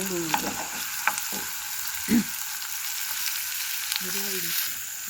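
Ingredients for a cottage pie sautéing in a pan in a village kitchen, a soft steady sizzle with a few brief clinks and stirring scrapes, near and fairly quiet, with no one talking.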